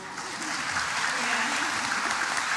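Steady applause from a crowd fills the whole stretch, dense and even, with a voice faintly running underneath.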